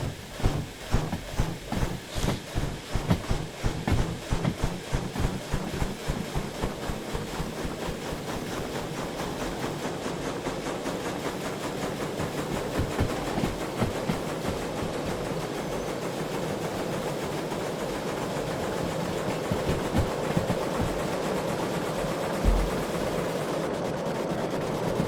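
Train rolling along rails in the Derail Valley railway simulator game, a steady continuous rumble with rhythmic clacking early on that settles into an even drone, sounding close and alone with no talk.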